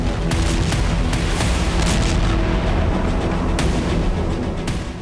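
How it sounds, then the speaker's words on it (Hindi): Continuous heavy rumbling blasts with sharp cracks scattered throughout, loud and dense, like a barrage of bombs exploding one after another in Ukraine. "यूक्रेन की धरती पर सिलसिलेवार धमाके होने लगे"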